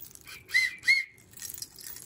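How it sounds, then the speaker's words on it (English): Toy whistle charm from the 1980s or 1990s blown twice in short, shrill, close bursts, the second quickly following the first, over faint background noise. "here's another whistle. Let's see if this one works."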